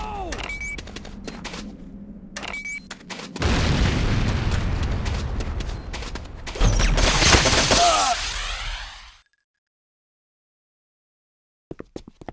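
A C4 charge goes off in a shooter game, a heavy booming blast with a long rumbling tail that fades into silence, with gunfire and a few faint pops before and after.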